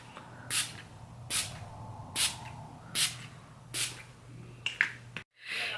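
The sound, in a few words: e.l.f. Makeup Mist and Set Spray being sprayed on face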